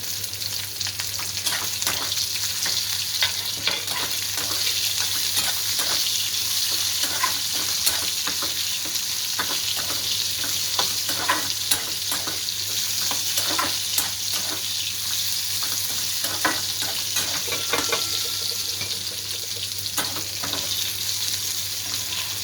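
Bitter gourd and plenty of garlic fry in a pan with a steady, close sizzle, while a spatula stirs and scrapes through them in repeated bursts, with no voices over it.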